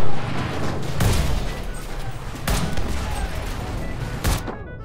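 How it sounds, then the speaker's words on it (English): A thrown grenade blast and bursts of gunfire in the World War video game, with loud repeated booms and dense crackling shots over a continuous rumbling battle din. "Grenade! I accidentally threw a grenade there."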